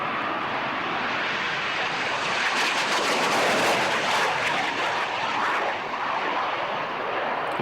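A small stealth bomber flies past at an air show, producing a loud, broad, steady jet roar that swells slightly mid-pass and fills the whole stretch.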